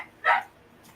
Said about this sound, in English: You gotta make some dogs go hush hush.